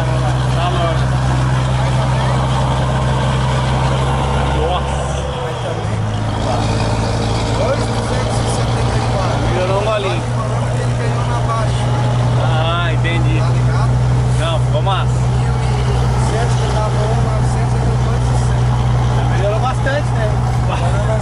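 Heavily loaded Volvo FH truck with a 600 hp engine, running a steady loud low roar and drone throughout, with brief shouts and a voice heard over it.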